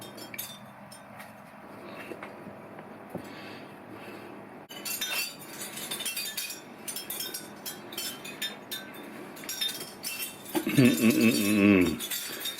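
Chimes ring with bright clinking, glassy tones in a home kitchen during a cooking session for Brazilian pork skewers, fairly steady across the clip and swelling louder near the end.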